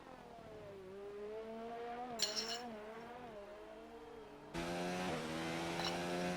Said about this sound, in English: Very smooth gear changes as you can hear the car moving away from the camera